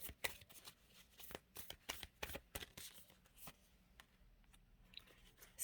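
Tarot cards being shuffled up close, a soft series of quick papery riffles and taps, quiet and uneven.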